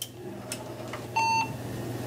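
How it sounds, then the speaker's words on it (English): An HP 6300 SFF PC motherboard beeps on power-up, one short clear tone rising above a low hum of fans, close and moderately loud with no talking. "Got beeping problems."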